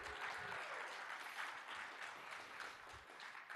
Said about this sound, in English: That definitely deserves applause.